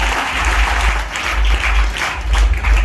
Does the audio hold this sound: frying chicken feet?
no